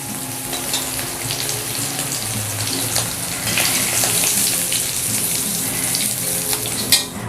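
Potatoes fry in hot oil for aloo gobi, a steady dense sizzle with a brief clatter near the end and no talk.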